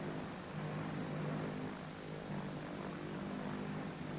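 A propeller mail plane in flight gives off a steady, droning engine hum that holds level throughout, fairly faint and with no voices over it.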